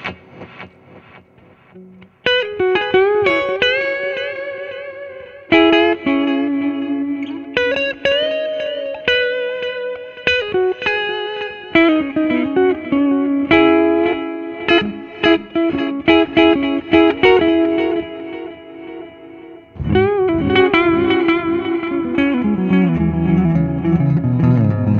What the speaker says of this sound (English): you get a ping pong delay and you get a reverse delay and you also get some reverb